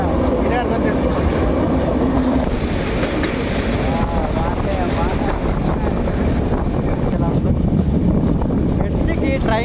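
A passenger train runs from Araku to Vizag with a loud, continuous rumble and the rattle of the wheels, while people talk over the noise the whole time.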